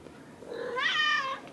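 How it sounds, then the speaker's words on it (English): A domestic cat gives one drawn-out, rising-then-falling meow, close and fairly clear, over a quiet indoor background. "She's been meowing at me."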